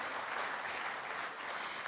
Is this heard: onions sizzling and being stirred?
no